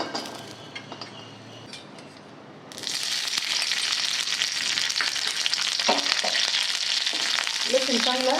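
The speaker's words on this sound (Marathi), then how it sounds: "लसूण चांगला लाल भाजून घ्यायचा" Garlic and coconut fry in oil in a hot kadhai with a loud, steady sizzle that jumps sharply a few seconds in. Faint metal clinks and scraping of stirring come through near the end.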